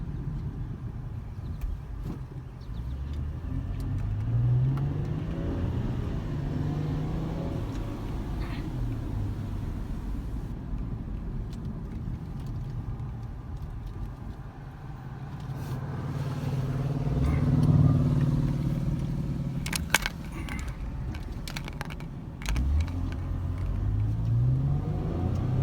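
A car drives along a narrow rural road near the Brandywine Battlefield, following a black car; a steady engine and tyre rumble from inside the vehicle rises and eases with speed, with brief knocks and no talking.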